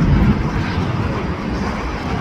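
A heavy jet airliner departs LAX for Frankfurt with a distant, broad engine roar that stays steady and low in an outdoor setting.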